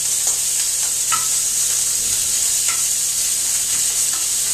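Beef for an Irish-stout steak pie sizzling steadily in a hot pan, a continuous bright frying hiss with a few faint stirring scrapes, no voices.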